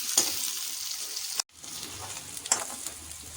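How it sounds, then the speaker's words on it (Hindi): Onion sizzles in a hot pan with a steady crackling hiss, broken by a brief pause and a few sharp stirring clatters, close and moderately loud. "एक प्याज जो है मैं इसमें डालूंगी और इसको अच्छी तरह से हम भून लेंगे"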